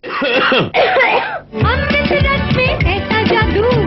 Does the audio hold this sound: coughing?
yes